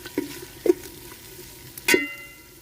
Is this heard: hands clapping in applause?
no